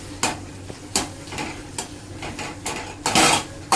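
A utensil stirs and scrapes food around a pan in repeated sharp strokes, some clattering, over a low sizzling background.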